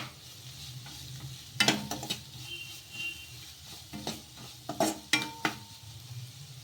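Grated carrot being stirred in a frying pan, a soft steady sizzle broken by several sharp scrapes and clinks of a utensil against the pan, close and fairly quiet, with no voices.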